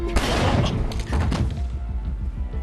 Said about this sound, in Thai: และจู่ๆเสียงปืนก็ดังขึ้น